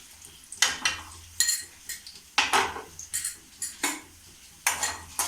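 Ginger stirred into passion fruit pickle with a metal spoon, giving a run of close, sharp scraping and clinking strokes in a quick, uneven rhythm against the vessel; no voices.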